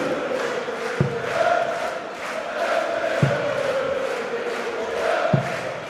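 A darts championship crowd in Germany cheers and chants loudly and continuously, with three sharp thuds landing at regular intervals beneath the sustained roar of voices.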